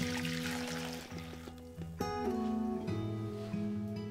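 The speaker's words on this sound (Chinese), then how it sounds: "鸡汤倒入盆中" Chicken broth is poured into a basin, giving a brief splashing, trickling flow at the start that fades into background music.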